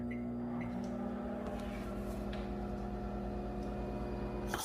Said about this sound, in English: So you kind of vent it a minute, 1 minute and 30 seconds in the microwave.